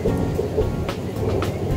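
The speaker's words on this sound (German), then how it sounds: "jetzt gewittert sogar auch." Thunder rolls through a rainy thunderstorm, a deep continuous rumble with steady rain around it, heard briefly and fairly close.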